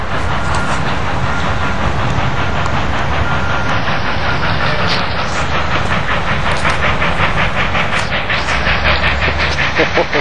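Union Pacific 844 steam locomotive pulling out of Sparks, Nevada, loud and near, with rhythmic chuffing exhaust blasts over hissing steam and rumbling wheels for the whole stretch.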